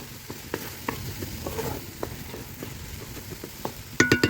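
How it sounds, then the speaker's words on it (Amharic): Onions frying in oil in a large iron pot on a stove, a steady close sizzle broken by scattered stirring taps, ending in a short burst of clattering. "ከሽንኩርት ማብሰል ጀምረናል።"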